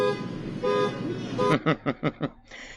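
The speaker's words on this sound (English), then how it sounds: "And for the rest of that speech, you hear that car horn." Car horn honking in the background of an outdoor speech, a long tone under a speaking voice, then a series of five or six short rhythmic toots.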